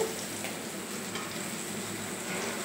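Loitta fish frying in a pan as turmeric is added, a steady close sizzle and hiss with faint stirring, no voices.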